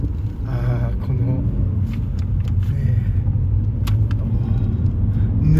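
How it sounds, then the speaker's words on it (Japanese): Subaru Legacy B4 engine purring with a steady low rumble, a smooth and silky idle-to-light-throttle note close by, with faint clicks and background noise layered on top. "このサウンド、シルキーなこのアクセルにこう伝わってくるエンジンのささやき"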